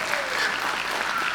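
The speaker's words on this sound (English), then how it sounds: "they need another round of applause" Audience applause at a dance academy's student day performance, a dense steady wash of many hands clapping throughout, loud and continuous with a faint crowd murmur beneath.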